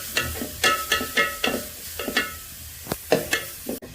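Food sautéing in ghee in a pan, with repeated stirring scrapes and a soft sizzle in short bursts close by; no talking.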